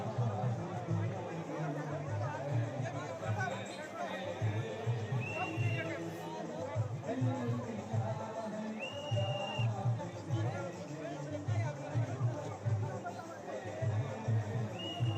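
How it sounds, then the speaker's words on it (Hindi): Thousands of people move through Ahmedabad streets in a Tiranga rally, a steady murmur of crowd chatter and footsteps with scattered whistles and shouts, moderately distant and continuous. "हजारों लोगों की भीड़ यहाँ पर चलती हुई आपको नजर आ रही है।"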